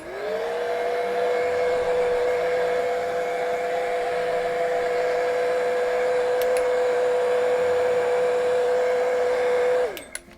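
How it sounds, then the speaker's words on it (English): A heat gun blows a steady, loud whirring rush of air during a painting session, starting up, holding an even tone for about ten seconds and then cutting off with a few small clicks. "I'm going to grab my heat gun here for just a sec."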